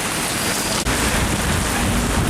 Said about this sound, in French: Mais qu'est-ce qu'il pleut, c'est un truc de ouf là.